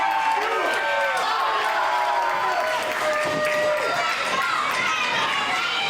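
Crowd at a live pro wrestling match between Brandon Barretta and Camaro Jackson, cheering and shouting steadily throughout, loud and close with excited voices rising and falling, a commentator talking over it.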